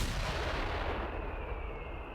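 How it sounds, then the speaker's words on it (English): Heavy mortar firing in Company of Heroes 3: a loud, dense burst of booming blasts with a long rumbling tail that fades slightly toward the end, no voices. "Those are all sounding pretty good, especially the heavy mortar."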